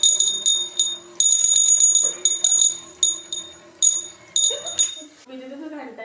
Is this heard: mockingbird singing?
no